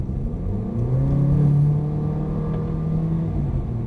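A Mercedes-Benz car at full throttle on a track driving experience, its engine droning with a steady rising tone from inside the cabin, loud and continuous with no talking.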